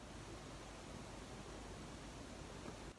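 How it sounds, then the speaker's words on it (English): Quiet room ambience, a steady, even hiss of background room tone with no voices or distinct events, cutting off abruptly at the end. "It's the sound of the room if there's no one talking."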